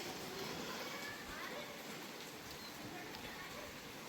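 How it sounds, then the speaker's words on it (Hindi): Heavy monsoon rain pours steadily outdoors among trees early in the morning, a dense, even hiss holding at the same level throughout. "बारिश आ रही है बहुत तगड़े वाली।"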